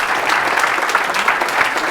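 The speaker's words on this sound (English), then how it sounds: "let's give Aubrey a round of applause" A live audience applauds for podcast host Aubrey Marcus, a lively, continuous round of clapping with scattered individual claps standing out across the whole stretch.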